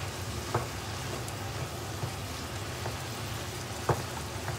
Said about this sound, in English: So the frying seems to have turned into braising